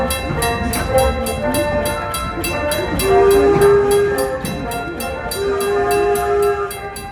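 A 1930s steam locomotive pulls away from the Firestone station at a historic village, loud and close, with chuffing, clanking rail cars and a sustained whistle tone rising midway.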